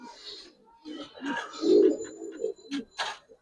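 Giribaz and coloured pigeons coo nearby in irregular, throaty bursts, one fuller coo standing out in the middle, mixed with scattered short rustles and clicks.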